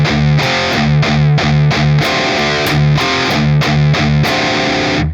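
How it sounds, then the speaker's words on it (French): Heavily distorted electric guitar in drop D tuning plays a chugging palm-muted riff, loud and continuous, with tight rhythmic bursts and sustained chord accents throughout. "on va enchaîner avec des palm mute et on va venir jouer ensuite un accord de quarte"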